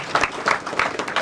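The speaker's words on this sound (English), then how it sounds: "Give him a round of applause." Brief applause at a mixed martial arts press conference, a few distinct bursts of clapping, close and fairly loud, in an uneven rhythm with no voices.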